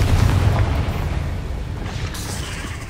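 A Confringo fire spell explodes in Hogwarts Legacy, a loud, deep booming blast with heavy low rumble that rolls on and slowly fades over a few seconds.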